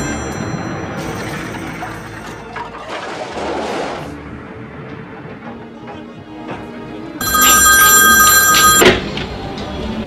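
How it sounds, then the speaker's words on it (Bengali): An old landline telephone rings loudly indoors in bursts of electric bell trilling, with quieter noisy gaps between rings and no talking. "কেউ যখন ফোনটা ধরতেছে না, এতক্ষণ ধরে বাজতেছে"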